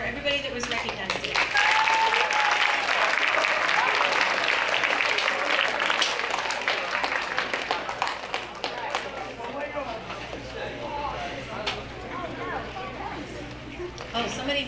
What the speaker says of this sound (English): let's just do a round of applause for everybody that was recognized today